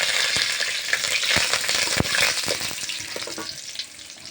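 Curry leaves dropped into hot oil in a pan for a spicy semolina dish, crackling and spitting loudly with sharp pops over a dense, continuous sizzle that eases slightly toward the end.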